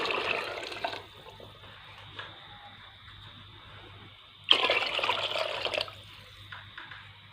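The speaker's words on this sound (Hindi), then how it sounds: "ये 2 बर्तन जो हैं भर के हम इसमें पानी डाल देंगे" Water poured into two cooking pots for chana pulao rice, a splashing rush at the start, quieter trickling through the middle, then a second strong pour before it tapers off.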